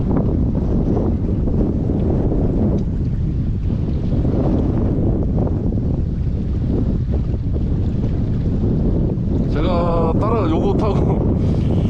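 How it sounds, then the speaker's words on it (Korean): Strong wind blowing outdoors by the sea on Jeju Island, a loud continuous buffeting roar hitting the microphone, with a short bit of voice near the end. "지금 바람이 너무 많이 불어서 위험하니까 오지 말라고 하시니까"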